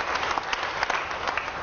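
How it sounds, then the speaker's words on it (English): Brief burst of audience applause at a church service, dense steady clapping from a congregation lasting under two seconds with no voices on top. "let's give the Lord a clap for that"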